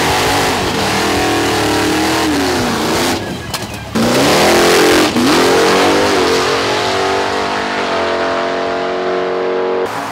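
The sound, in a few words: drag racing car engine revving at Atco Dragway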